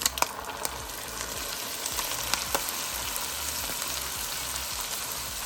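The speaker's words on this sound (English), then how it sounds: "I drained off the grease from the ground beef and now I'm gonna add in a can of ranch style beans" Ground beef and canned ranch style beans cooking in a fry pan, a dense, steady sizzle and crackle throughout with a few sharper pops early on, no talking.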